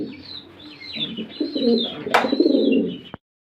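Lahori pigeons cooing close by in a loft, soft throaty rolling calls overlapping with high chirps and a brief flutter, continuous until an abrupt cut.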